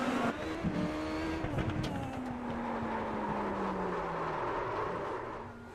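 An IndyCar in a sim racing replay at Belle Isle loops around after touching the wall: a loud engine whine sweeping downward with tire squeal and skidding, the motor droning on steadily afterward.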